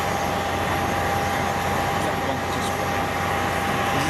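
A Cessna 150 runs its engine up for a pre-flight test at Boeing Field, a steady, even drone with a constant whine, heard from a distance with no talking.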